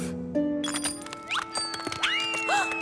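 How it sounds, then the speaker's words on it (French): A small lucky bell rings with bright metallic tinkles in a few separate strikes, clear and close, among animated sound effects and a soft musical background. "La cloche de Percy!"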